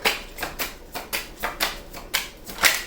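Tarot cards drawn from a deck make a series of about eight crisp, papery slaps and flicks at a steady pace, close and fairly quiet with no talk.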